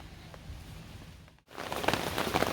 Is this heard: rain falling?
yes